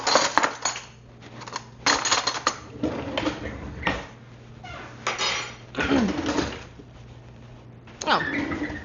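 Metal utensils and measuring spoons clatter and jangle in a kitchen drawer during a rummaging search, loud uneven bursts of rattling and clinking across the whole stretch with brief pauses.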